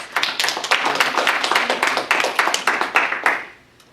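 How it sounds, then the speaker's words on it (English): A small audience at a science writing careers panel claps for the panelists, a brisk close burst of individual hand claps that holds for about three seconds, then tapers off into quiet. "Please join me in a round of applause."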